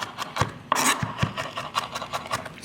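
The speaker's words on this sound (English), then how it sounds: "once you've sliced it, you can then chop over top" A knife chops sliced garlic cloves on a cutting board in a kitchen, a quick series of close, light taps and scraping strokes, with no talking.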